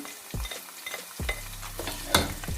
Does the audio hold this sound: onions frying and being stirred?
yes